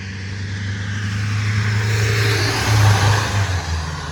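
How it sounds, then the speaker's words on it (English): A car passes close by in rain, its engine and tire hiss on a wet road swelling to a loud peak and then easing off, with no one talking. "Another car going by."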